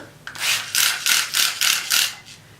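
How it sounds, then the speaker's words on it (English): A handheld spray bottle misting water onto towel-dried 4C natural hair, six quick hissing bursts in a steady rhythm, close and clear with nothing else around. "I'm going to re-wet it with my spray bottle"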